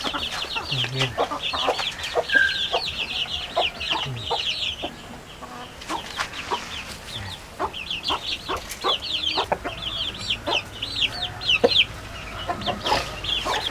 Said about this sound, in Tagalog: yung Black Australorp na klase ng manok